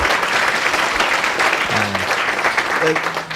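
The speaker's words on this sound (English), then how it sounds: "So one more round of applause for everyone for sharing all of this." An audience at a 2018 news-nonprofit conference session gives a full, continuous round of applause, with a few voices speaking briefly over it.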